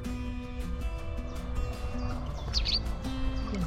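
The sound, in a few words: small birds chirping by a lake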